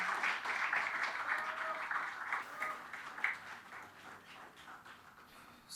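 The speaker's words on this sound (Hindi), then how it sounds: "ज़ोरदार तालियों से उनका इस्तकबाल करें" Audience applause at an Urdu mushaira poetry gathering welcoming a poet to the stage; a sustained, moderately distant wash of clapping that gradually thins out toward the end.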